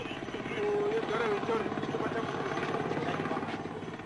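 Military helicopters returning to collect soldiers in the Rhodesian bush war, 1977: a loud, continuous rotor thump with a steady engine drone, close by, with a voice talking over it.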